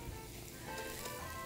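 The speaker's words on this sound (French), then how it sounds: "quand ça le frit pendant 3-4 minutes" Food sizzles and crackles steadily in a hot pan, a close, continuous frying sound with no voices.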